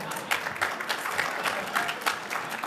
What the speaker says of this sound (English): Was that clapping?